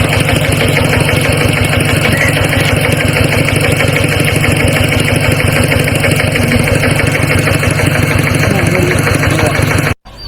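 A rice milling machine's engine runs continuously and loudly, with a steady pulsing drone and a constant mechanical rattle, cutting off abruptly just before the end.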